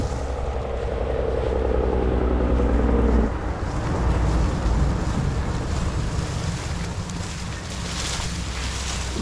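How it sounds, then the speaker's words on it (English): Freight train trucks rolling past on the CN Graham Subdivision track, a loud rushing roar of wheels with strong wind buffeting, intense early then shifting to a rougher, steady rumble as cars keep passing. "you can hear the trucks barreling down"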